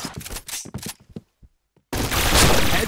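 Rapid gunfire from a shooter video game bursts out in short cracking volleys, then a dense loud barrage after a brief gap, with no talk over it.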